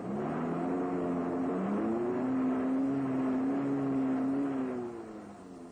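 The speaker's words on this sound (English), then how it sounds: "Sudden bursts of power cause the wheels to spin, and the vehicle digs deeper into trouble." A Land Rover engine strains steadily as its wheels spin and the vehicle digs deeper into soft ground, a sustained droning rise and fall of revs lasting several seconds before easing off.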